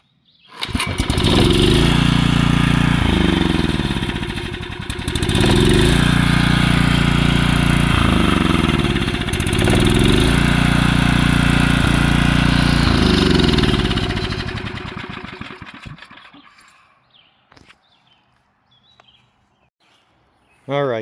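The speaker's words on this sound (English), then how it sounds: "spray some carburetor cleaner right through it while I'm trying to start it, see what happens." An old Generac 3500XL generator, sprayed with carburetor cleaner while being started, revs up loudly in repeated surges of roughly three to four seconds each, then sputters and dies near the end, leaving near silence.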